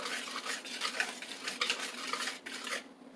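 A utensil scrapes and swishes steadily around a bowl, mixing flour and other dry ingredients for yeast mandazi dough, with rhythmic stirring strokes, close and moderately quiet, with no voices.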